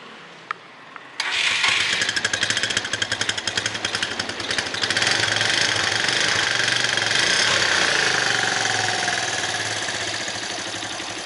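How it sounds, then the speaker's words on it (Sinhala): A Suzuki GS 125cc motorcycle engine cranks with a couple of faint clicks, then catches and revs briefly before settling into a steady, close, loud putter at idle, with no talking. "එහෙනම් අපි බයික් එක ස්ටාර්ට් කරලා බලමු."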